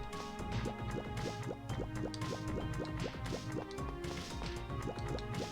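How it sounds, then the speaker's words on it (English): Splashing footsteps through water in a video game, a rapid run of wet slaps and drips repeating steadily over a continuous watery background. "I hate the sound effects of these water footsteps"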